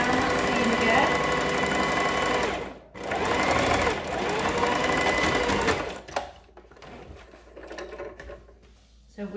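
A sewing machine stitches down an oilcloth bag's lining seam in a loud, continuous run, pauses, runs again, then falls to quieter clicks and handling.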